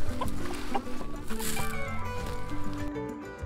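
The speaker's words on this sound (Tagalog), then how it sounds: "So ito yung ating mga tandang na kabatch ng ating batch 19." Roosters cluck and murmur close by in a steady stream of short, overlapping calls with farmyard ambience around them.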